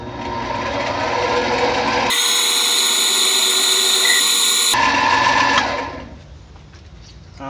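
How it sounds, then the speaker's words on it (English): A steady, high-pitched whine of a center drill boring into the metal body of a homemade boring head, loud and continuous for a few seconds before dropping back to machine hum. "let's center drill this, and then we'll actually run a real drill through it"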